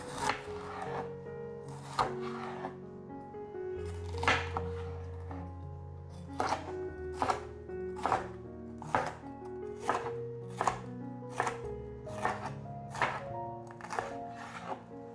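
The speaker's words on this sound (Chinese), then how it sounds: "把甜椒切成条状" A knife slices red, orange and yellow bell peppers into strips on a cutting board, making steady, evenly spaced chopping thuds close by over soft background music.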